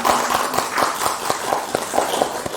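A church congregation claps together in an even, regular rhythm to give glory to God, with sharp hand claps repeating about four times a second in a reverberant hall.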